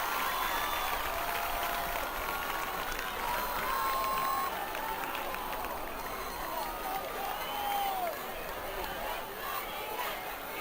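Capacity crowd at a high school football game in Manchester Stadium on the Cathedral Catholic High School campus, a steady roar of cheering and chatter with whistles and shouts rising throughout.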